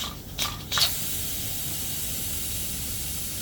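Steam bursts from a pressure cooker holding mutton karahi as the pressure is released, two short hissing spurts followed by a steady low background hiss.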